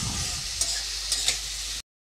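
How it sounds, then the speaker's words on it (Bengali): Onions and potatoes frying together in a pan while being stirred, a steady close sizzle with a few sharp scraping taps from the spatula, ending abruptly into silence. "তো নেড়ে চেড়ে খুব ভালো করে ভাজা করে নেব।"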